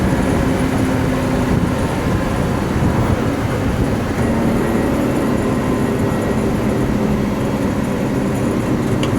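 A 1967 Ford F600 truck cruises in fourth gear, its engine and road noise forming a loud, continuous low rumble with no pauses.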